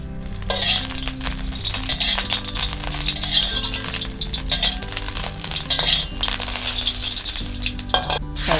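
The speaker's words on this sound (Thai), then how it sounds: "เราก็จะมาผัดเส้นกันค่ะก็ใส่น้ำมันลงไปนะคะ" Noodles for seafood rad na are stir-fried in oil in a pan, with a loud, continuous sizzle broken by frequent close metallic clinks and scrapes as the utensil tosses them.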